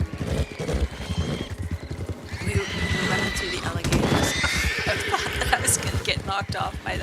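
A horse in Red Dead Redemption 2 Online whinnies loudly amid hoofbeats and scattered gunfire, with someone talking over the commotion.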